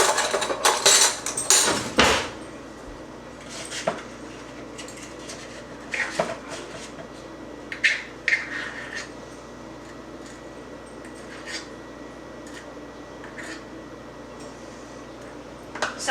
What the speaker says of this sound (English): just spoon a little of this into each one of these muffin tins